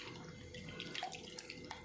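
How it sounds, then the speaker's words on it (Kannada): Tap water runs steadily into a sink while a mixer-grinder jar is rinsed after grinding neer dosa batter, a continuous close splashing flow with a few brief clinks and gurgles. "ಮಿಕ್ಸಿದ ಜಾರ್ ದೆಕ್ಕದು"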